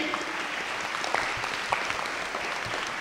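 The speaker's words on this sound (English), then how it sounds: "can we have a huge round of applause for young Rashmi?" An audience at a national quiz final claps for a young contestant, a dense continuous round of applause, close and steady for the whole stretch.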